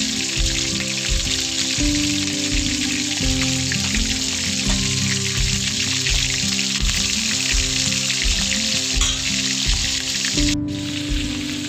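Pangas fish fries in hot oil with a loud, continuous crackling sizzle that stays even and close for the whole stretch, with no talking.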